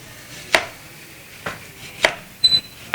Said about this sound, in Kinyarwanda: iki ni igitunguru cyanjye ndi gukata